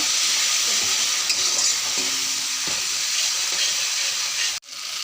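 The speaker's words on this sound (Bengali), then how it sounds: "মশলা দিয়ে ভালো করে কষায় নিলাম" Spices with salt and a splash of water sauté for a village-style egg and potato curry, a dense, steady sizzle with faint stirring scrapes that cuts off abruptly near the end.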